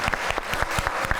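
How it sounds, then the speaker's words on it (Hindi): A short burst of audience applause in a television talk-show studio, quick rhythmic claps from a sizable crowd, close and fairly loud. "तो आपके लिए तालियां हो जाएं।"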